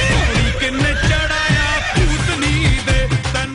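A mare neighs loudly and close, with a long shaky whinny broken into quavering pulses and a few soft hoof clops mixed in.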